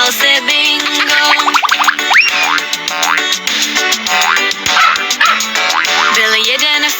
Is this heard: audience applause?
no